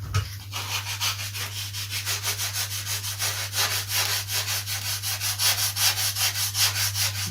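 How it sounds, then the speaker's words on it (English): Sandpaper rubbing steadily along the top edge of a foam model Spitfire Mk XVI part, a quick regular back-and-forth scratching close by, with a constant low hum underneath and no talk. "I'm just going to give that a little sand."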